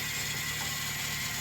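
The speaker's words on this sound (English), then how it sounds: "This belt was just kind of loud" Loud belt noise from a Toyota Celica GTS engine, a continuous fast ratcheting chatter with steady mechanical whir, close and alone without talk.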